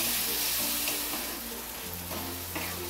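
Green chillies slit lengthwise and finely chopped tomato roast in a pan for a Maharashtrian matki and moong dry bhaji, a steady low sizzle running throughout with a few soft stirring scrapes, close and moderately quiet, no voices.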